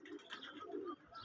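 Domestic pigeons at a pigeon farm give soft, low cooing calls, several short murmuring coos in quick succession. They sound quiet and fairly close, with no talking.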